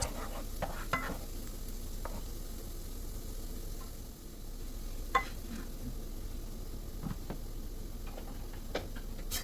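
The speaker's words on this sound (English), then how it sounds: "Stir it occasionally to prevent burnt garlic. Fry it until it turns lightly brown." Garlic frying in a pan while being stirred, a steady close sizzle broken by scattered spatula taps and scrapes throughout, with no one speaking.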